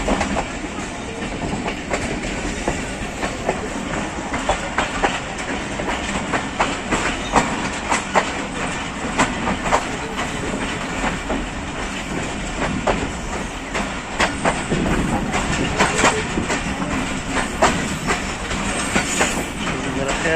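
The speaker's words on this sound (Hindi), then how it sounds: "आती है ट्रेन तो पता चल जाएगा कौन सी ट्रेन है।" A train passes on a railway line in Pakistan with a loud, continuous rumble and a steady rhythmic clickety-clack of wheels over rail joints, close at hand throughout.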